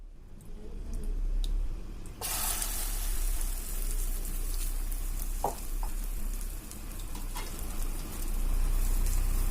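Beaten egg hits hot coconut oil in a pan and breaks into a steady, close hiss and crackle for omelette, with a few scattered pops and no voices.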